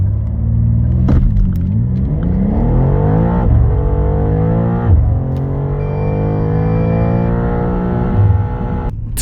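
A 2023 BMW M2, rear-wheel drive, accelerates hard from standstill to 100 km/h, the engine note climbing through several gears with sharp dips at each upshift, loud and close under a deep rumble.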